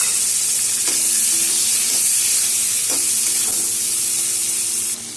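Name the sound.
onion and tomato frying in oil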